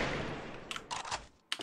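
Gunfire from the mobile shooter game Free Fire: a few short, sharp bursts of shots after a fading noise, fairly quiet, with no speech.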